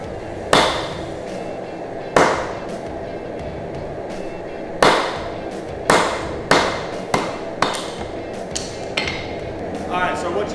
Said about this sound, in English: I just hot cut off the excess material for the tank